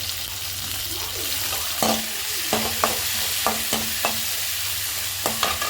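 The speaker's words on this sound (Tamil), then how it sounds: "நல்லா வதங்கட்டும்" Onions and tomatoes sautéing in oil for Maggi noodles, a steady sizzle with repeated sharp spatula taps and scrapes against the pan at an uneven rhythm, near and clear.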